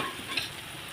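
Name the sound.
paneer frying in a pan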